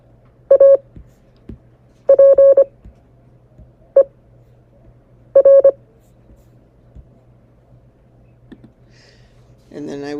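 Morse code word sent as tone bursts by trainer software, several short clusters of beeping dots and dashes with gaps between them, clear and close over a faint hum, brief speech at the end.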